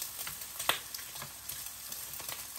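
Bacon frying in a pan at breakfast, a low continuous sizzle with faint crackles and a few soft pops, heard close and alone.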